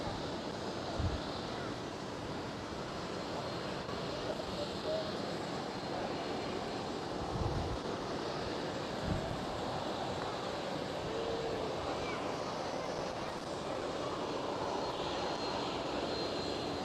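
A KLM airliner taxis past at close range at Schiphol Amsterdam airport, its engines sending a steady, broad jet roar that holds level throughout with a few low thumps and wind buffeting, and no speech.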